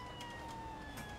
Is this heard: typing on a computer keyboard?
no